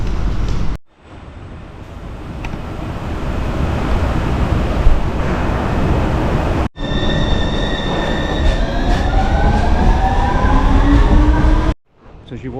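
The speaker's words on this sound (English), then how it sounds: "I'm just going down into the subway." A subway train in an underground station, its loud rumble filling the platform and rising wheel squeals sweeping upward as the cars move along the rails, with brief breaks where the sound cuts out.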